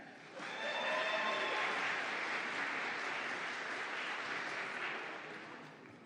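An audience applauds graduating environmental science seniors at a fall commencement ceremony, a broad, steady wash of clapping that swells quickly and holds, with a voice briefly audible at the start.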